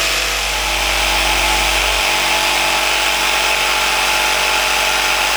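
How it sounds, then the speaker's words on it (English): A jigsaw cuts through wood with a loud, continuous, harsh buzzing drone that stays steady throughout, heard up close with no talking. "Once you have it marked out, cut it out with the jigsaw"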